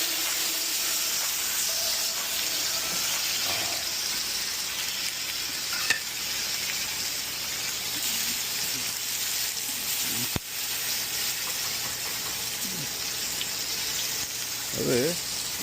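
Chopped tomatoes, watery enough to spatter, hit hot oil with garlic already fried red, giving a loud, steady close-up sizzle with occasional stirring scrapes throughout.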